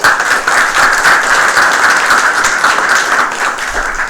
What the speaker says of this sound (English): Can we give each of them a round of applause?